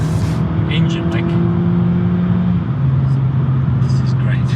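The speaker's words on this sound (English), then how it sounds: "Revs like it's nobody's business. Like a really free revving peppy engine." A Suzuki Swift Sport hot hatch's engine drones loudly at high revs while on the move, holding a steady tone that dips briefly midway before climbing again, with faint voices in the background.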